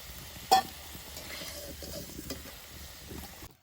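Tomato fries in a pan after potatoes while a jackfruit curry is cooked. It is a faint, soft sizzle with one sharp clink of utensils near the start and light stirring, alone with no talk.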